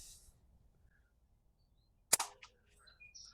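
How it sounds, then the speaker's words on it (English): A slingshot shot strikes a can outdoors: one sharp, close metallic crack after near silence, followed by a few faint rattles. "Shooting a can is just fun."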